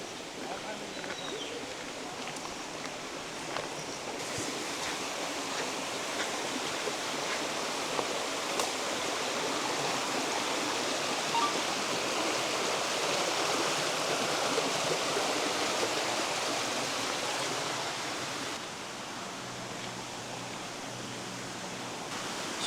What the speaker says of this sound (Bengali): একটা ছোট্ট ঝর্ণা আছে, তার আওয়াজই পাচ্ছি শুনতে